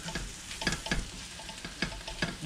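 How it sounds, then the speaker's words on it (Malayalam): Turkey masala with Kashmiri chilli stirred in a hot pan, a utensil scraping in quick repeated strokes over a soft continuous sizzle, close and fairly quiet. "അപ്പോൾ അതെല്ലാം ഒന്ന് നന്നായിട്ട് മിക്സ് ചെയ്ത്"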